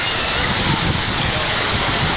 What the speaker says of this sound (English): You want to go into the waterfall?